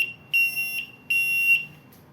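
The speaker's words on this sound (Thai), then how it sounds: "จะทำการเล่นเสียงบัสเซอร์เพื่อเป็นการไล่เด็ก" A shrill electronic buzzer alarm on a sensor-operated door system sounds in two long bursts separated by a short gap, loud and close, with no voices.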